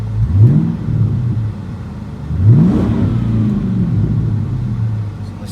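A 2001 Ford Mustang GT V8 revved twice in quick succession, each blip climbing sharply then settling back to a steady, loud idle rumble close by.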